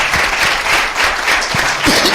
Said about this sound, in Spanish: Un fuerte aplauso para Andrés Quintanilla.